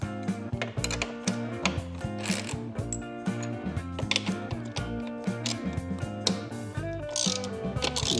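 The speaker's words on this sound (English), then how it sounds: "We are going to remove these placeholder bolts again." Busy ratchet clicking in quick runs while 12 mm and 13 mm placeholder bolts are backed out of a motorcycle's GIVI Canyon pannier mounting points, close and loud, with metallic ticks and short pauses between strokes.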